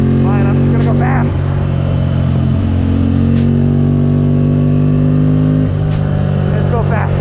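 Motorcycle accelerating along De Luz Road in Southern California, a steady engine drone with rising pitch steps as it pulls through gears, loud and continuous with heavy wind buffeting throughout.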